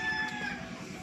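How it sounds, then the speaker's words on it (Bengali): Chickens on a village poultry farm make a low, continuous clucking chatter with higher tonal calls over it, a steady flock murmur close by. "এই যে এগুলো হচ্ছে মুরগির ফার্ম।"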